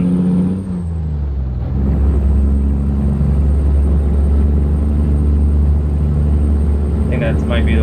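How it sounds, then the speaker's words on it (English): A truck in American Truck Simulator drones under retarder braking with a steady low rumble and whir throughout, a hiss near the start and a faint chime near the end. "I must have a retarder on or something."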